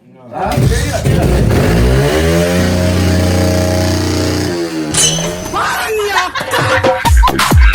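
A motorbike in a late-night race revs hard through its silencer, a loud, close, rising roar that holds for several seconds before dropping away as voices and sharp noises take over.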